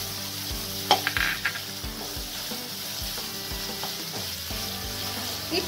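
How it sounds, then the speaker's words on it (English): Onion for tawa pulao fries in hot oil in a pan with a continuous close sizzle, punctuated by rhythmic scraping and stirring knocks of a spatula against the metal, with no talk. "Now we are going to add the onion."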